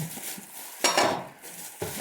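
Metal Hölmer pots clank and scrape close by, a few sharp knocks and clatters among softer rubbing handling sounds, with no voices.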